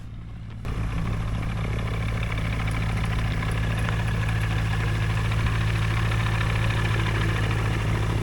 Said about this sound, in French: là il y a un gyro qui va repartir maintenant